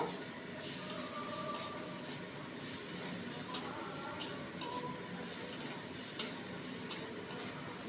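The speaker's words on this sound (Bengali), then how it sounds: "ম্যাগি মশলা দিয়ে ভালো করে নেড়ে নেব" A spoon stirs Maggi masala into a cooking chapati filling, giving quiet, scattered clinks and scrapes with a soft sizzle beneath.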